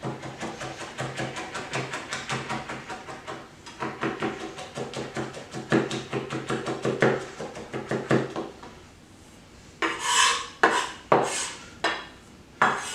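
A chef's knife rapidly mincing garlic on a cutting board, a quick steady run of light taps that continues for several seconds and then gives way to a few louder, sharper knocks and scrapes near the end.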